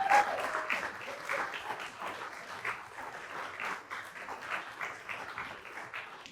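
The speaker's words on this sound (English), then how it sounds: "If you wouldn't mind, honor Brittany with a round of applause." An audience claps for a woman stepping up to share her story, a fairly quiet, uneven patter of hands from a modest crowd that swells and dips throughout.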